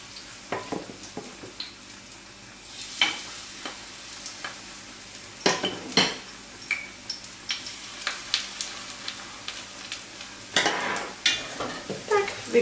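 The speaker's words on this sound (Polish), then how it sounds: "i smażymy z jednej i z drugiej strony." Quick batter pancakes frying in a hot pan, a continuous soft sizzle broken by spatula scrapes and clinks against the pan at irregular intervals.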